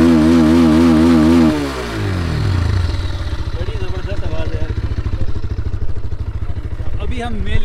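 A motorcycle on an off-road ride, its engine starting with a rising, wavering tone, then settling into a rapid, pulsing putter that carries on close and loud.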